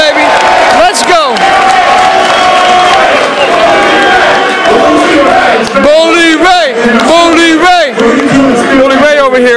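A party crowd in a New York City bar cheers, whoops and shouts loudly and almost without a break, with voices talking over the steady roar throughout.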